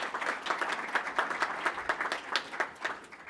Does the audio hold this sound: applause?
yes